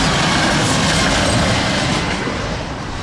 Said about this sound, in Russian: Вот, кстати, первый трамвай.